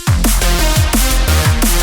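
A loud electronic music sample with a punchy bass-heavy beat and pitched synth stabs repeating in a tight rhythm, running continuously without any voice.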